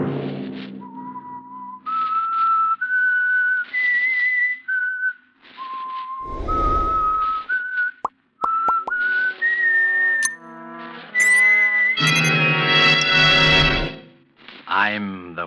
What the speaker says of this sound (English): Have you heard the whistling?